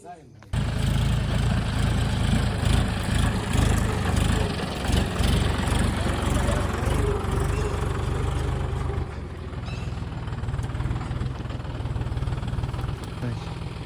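A new John Deere 5045D 4x4 46 hp tractor engine runs steadily at idle, a loud, low continuous rumble throughout, with a slight shift partway through and faint voices underneath.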